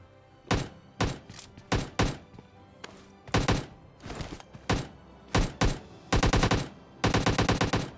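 Automatic gunfire in the mobile shooter PUBG Mobile Lite, in about a dozen sharp bursts and single shots spread across the stretch, some fast rattling volleys near the end, loud and close with no talking.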